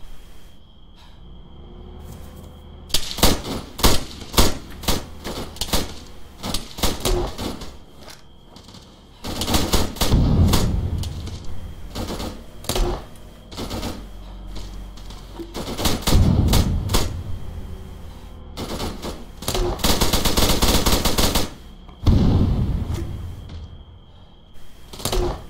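Loud automatic gunfire in an Arma military video game firefight, rapid rattling bursts repeating close by with short gaps between volleys throughout.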